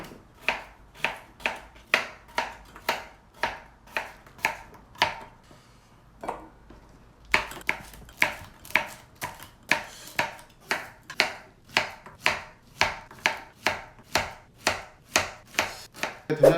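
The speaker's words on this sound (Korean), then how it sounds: "된장찌개 할 때는 잘게 깎으면 안 되고 크게 크게 잘라야 돼 양파 같은 거" A knife chops onion steadily on a cutting board, crisp regular strokes at a quick rhythm, pausing briefly before resuming at the same pace.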